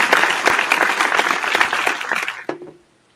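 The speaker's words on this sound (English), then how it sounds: "I think that's worth a little round of applause there." A round of applause on a beer-sharing show, heard as a dense, fairly loud burst of clapping that holds for a couple of seconds, then ends abruptly with a few last claps fading into quiet.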